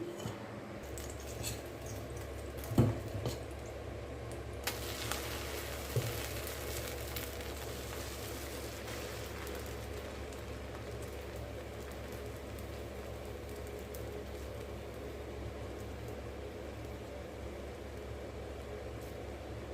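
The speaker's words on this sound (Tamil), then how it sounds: "இப்போ இதில் நான் தோசை தாங்க வாக்க போகிறேன்" Fermented ragi dosa batter cooks on a hot pan, giving a soft, steady sizzling hiss that swells a few seconds in and continues over a low background rumble, with a couple of small clinks.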